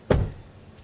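A GWM Haval Jolion hybrid SUV door swings shut with a single solid, low thud up close, fading quickly with no rattle.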